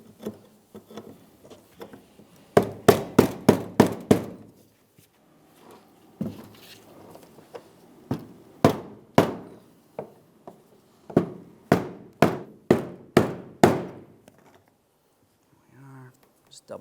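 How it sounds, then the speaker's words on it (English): Hammer and punch striking the fuel pump module lock ring on a 2002-2009 Chevrolet Trailblazer, sharp metallic taps in quick bursts of several blows separated by pauses, close and crisp. "Continue with your hammer and punch."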